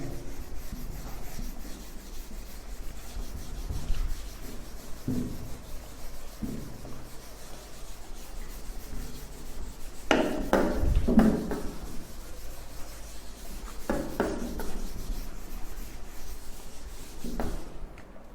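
A classroom board is rubbed down with an eraser in a series of short scrubbing bursts, soft and close, with quiet gaps between strokes and no voices.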